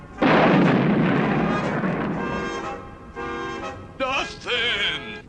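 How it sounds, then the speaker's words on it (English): Cartoon gunfire from a classic Underdog episode, with loud bursts and crackling shots at the start, followed by ringing ricochet-like tones and warbling comic effects. "The bullets are bouncing right off him, Eel."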